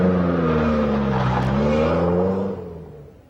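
Lancia Monte Carlo sports car engine holding a steady, throaty drone with a brief hiss partway through, then dropping off and fading near the end.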